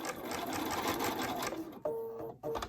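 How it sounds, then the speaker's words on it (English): A sewing machine with a standard presser foot stitches around the perimeter of a rectangular welted zipper pocket, a loud steady whir that runs continuously, pauses briefly for a turn, then resumes in short bursts. "So now we're going to sew all the way around the perimeter."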